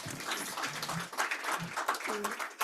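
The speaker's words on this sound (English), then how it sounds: "Let's give him a warm applause." Audience applause after a lecture at a summer school on comparative regionalism, moderate clapping from a crowd with voices talking over it.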